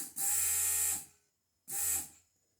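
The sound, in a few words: vacuum pump running in Tesla-powered Jeep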